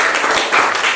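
Classmates in a classroom applaud: a dense burst of clapping from many hands, close and fairly loud, rising slightly midway through the one-second burst.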